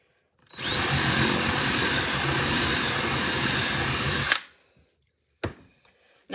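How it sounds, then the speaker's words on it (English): A power drill runs in one sustained loud whir for about four seconds during a crafting session, then stops, followed by a brief second burst near the end. "listening to the drill"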